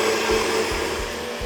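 A blender whirs steadily as it purées carrot, sweet potato and ginger soup, a close, continuous drone with a few low surges, no voices.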